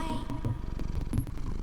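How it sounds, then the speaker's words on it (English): A recorded cat purr plays as a sound effect, a soft, rhythmic rumbling flutter with faint voices underneath. "It's a recording of the sound effect of cat purring."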